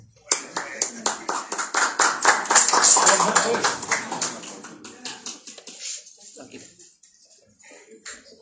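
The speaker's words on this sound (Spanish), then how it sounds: "Fuerte el aplauso para Patricia." A small group claps in a brisk burst of applause at a press conference, swelling then gradually thinning out into scattered claps.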